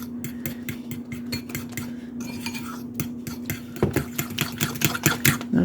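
A spoon stirs a Bisquick Heart Smart batter in a bowl. It makes a steady run of close scraping clicks against the side of the bowl that grow louder and sharper toward the end, over a low constant hum.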